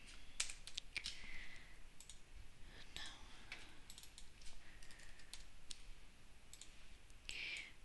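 Typing on a computer keyboard, a steady patter of light key clicks with occasional louder taps, close but faint against a quiet room, no speech.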